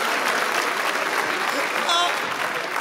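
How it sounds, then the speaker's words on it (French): A live studio audience applauds during a public comedy show, dense continuous clapping filling the room, loud and steady with a few voices mixed in. "Bon, ça s'applaudit"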